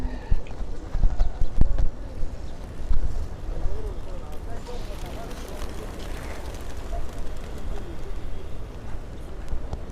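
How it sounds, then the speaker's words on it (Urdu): Pigeons coo and flutter while eating grain in a busy open space near the Haram, with crowd murmur and scattered thumps and footsteps around them. "تو دیکھیں ماشاء اللہ جو کبوتر دانہ کھا رہے ہیں"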